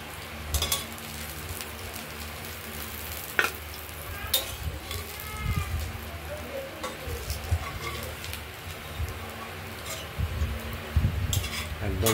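Young ash gourd slices stuffed with poppy seed and green chilli paste fry in oil, a steady low sizzle and crackle broken by scraping and clinking of a utensil against the pan.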